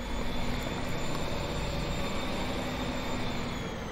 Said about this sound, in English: this will have the Paxman Volante engines on this one.